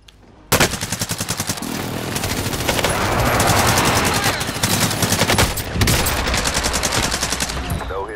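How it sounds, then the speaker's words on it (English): An air strike run in a military game unleashes sustained rapid automatic gunfire, a loud, dense stream of rattling shots lasting several seconds after a sudden start. "Strike inbound."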